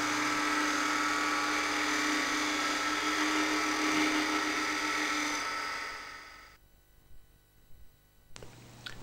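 A Robert Sorby multi-tip hollowing tool shear-scrapes spinning wood on a lathe, a steady bright whirring hiss that runs for about six seconds, then drops away to quiet with a brief faint knock near the end.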